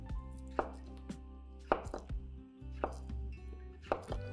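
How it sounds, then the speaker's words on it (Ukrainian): Knife cutting Bessarabian brynza cheese into pieces on a board, four or five distinct soft chops spaced about a second apart over a low steady hum, close and quiet. "Ріжемо шматочками нашу знамениту бесарабську бринзю."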